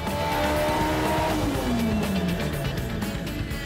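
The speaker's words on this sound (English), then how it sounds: "It's still breaking up on the top. Yeah, see, at high RPM, it's still falling apart." Engine of a 1991 Toyota MR2 Turbo making 483 horsepower, loud and continuous at high RPM, with a steady roar and a tone that sweeps downward partway through as the revs fall and the engine breaks up at the top.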